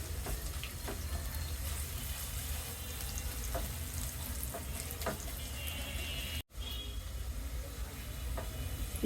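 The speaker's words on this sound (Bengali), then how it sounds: "পেঁয়াজটাকে আমি হালকা ব্রাউন করে ফ্রাই করে নিব।" Two medium chopped onions fry in a pan toward light brown for ramen, making a steady, fairly quiet sizzling hiss with occasional small ticks and pops.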